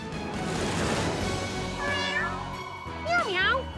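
A couple of high, wavering cartoon kitten meows rise over a noisy, busy background, with voices talking around them.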